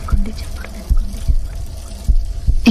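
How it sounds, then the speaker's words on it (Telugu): A heartbeat from a romantic film scene: soft, low, muffled thumps recurring at a slightly uneven pace over a faint background hum, with no voice. "అది తన గుండె చప్పుడు."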